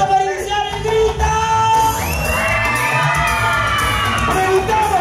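A birthday party audience shouts and cheers together, a loud sustained crowd roar with children's high-pitched yells and whoops rising after a brief start, continuing to the end.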